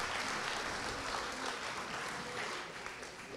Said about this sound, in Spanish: Muy un fuerte aplauso para los que han llevado estos 5 vales de pavo